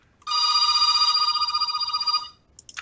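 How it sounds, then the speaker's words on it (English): A mobile phone rings loud and close in a continuous electronic trill lasting about two seconds, with a faint click or two after it stops. "Sorry, that's my phone."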